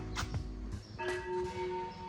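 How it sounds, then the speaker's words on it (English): A gong at a Vipassana meditation center sounds a couple of resonant struck tones that ring on with a sustained hum, mid-distance and fairly quiet, with no talk. "That's the gong, so we can go have tea."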